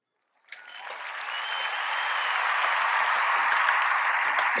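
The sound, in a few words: audience applause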